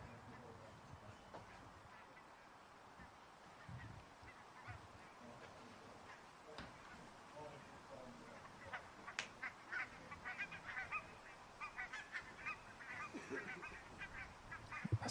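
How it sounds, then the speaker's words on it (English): A flock of geese on a disc golf course during a tournament round honks repeatedly, faint and distant at first and growing busier and louder toward the end, under a low outdoor background with some faint talk. "Mikael Häme trying to herd the geese on the course"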